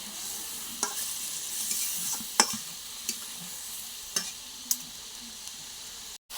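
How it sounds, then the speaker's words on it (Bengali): Spice paste ground on a grinding stone sizzles softly in a pan with its water while it is fried for a taro stolon curry, with a steady low hiss and occasional light clicks of stirring. "শিল বাটনাতে বেটেছি তার জল, এগুলো দিয়ে একটু কষিয়ে নেব ভালো করে।"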